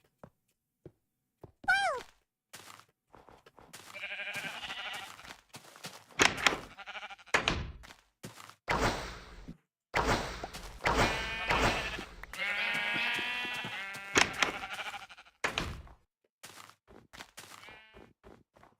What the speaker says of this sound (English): Catch that brown sheep.